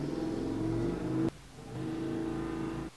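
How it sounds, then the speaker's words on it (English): A motorcycle idling in the street outside a house revs its engine repeatedly, a throaty mid-pitched drone that swells, cuts off sharply, then rises again, heard fairly faintly through walls with no talking. "there's this motorcycle outside, and it's like right in front of my house, and it just keeps like revving its engine"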